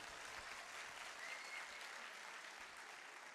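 An audience at a mushaira, an Urdu poetry gathering, applauds with steady, dense clapping that carries on evenly throughout, fairly faint and distant.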